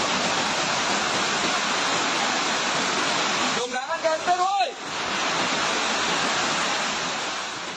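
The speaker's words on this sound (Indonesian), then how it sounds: "Sungai Cipager meluap, gudang jebol, jalan utama tenggelam, warga panik menyelamatkan diri." The overflowing Cipager river in Cirebon, West Java, rushes as floodwater in a loud, constant roar, briefly interrupted midway by a voice calling out close by.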